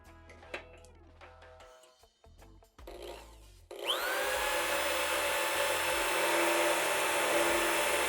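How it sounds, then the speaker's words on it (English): A power drill bit bores through a motorcycle rear fender on a Harley Sportster, starting after a few seconds of clatter and handling noises, then a loud, steady high-pitched whine of drilling that holds to the end. "we could just run the darn drill bit right through the hole into the fender and be done with it"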